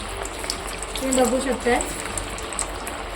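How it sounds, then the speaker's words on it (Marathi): Methi vadas fry in hot oil over medium heat with a steady, close bubbling sizzle, while someone talks over it. "आता आपण वड्यांना एक एक करून फ्राय करायला ठेवायचं आहे मीडियम गॅसवर"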